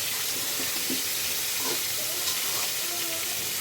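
Oil in a pan after frying fish for a Bengali cabbage stir-fry gives a loud, steady, hissing sizzle throughout, with faint clinks and no talking.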